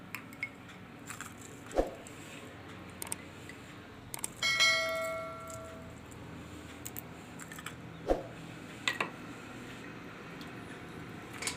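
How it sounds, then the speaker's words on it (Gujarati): Ice cubes dropped into a glass of lemon shikanji, giving scattered sharp clicks and one bright ringing clink in the middle, close and quiet against a hushed kitchen background. "અને આપણે આ બરફ નાખી દઈશું"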